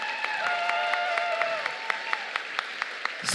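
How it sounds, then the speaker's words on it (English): Audience at a FIRST robotics district event applauding, a dense steady wash of clapping at moderate distance with a few sharper claps standing out, lasting the whole moment. "Let's give a cheer for James"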